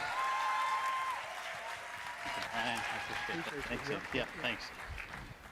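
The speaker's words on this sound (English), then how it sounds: "We need to really give him a round of applause." Crowd clapping at a talk on Kangen water welcoming a guest speaker, a steady wash of applause that continues under a voice speaking briefly over it.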